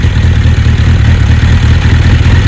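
A 1992 Suzuki GSX1100S motorcycle engine idles steadily and loudly up close, with an even low rumble and no pauses.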